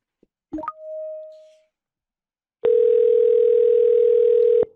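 A short electronic blip and fading tone, then after a pause a loud, steady telephone dial tone hums for about two seconds before stopping.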